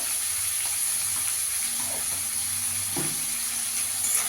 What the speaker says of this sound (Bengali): টমেটোগুলো ভেজে নেবো ভালো করে, লাল গলে যাওয়া পর্যন্ত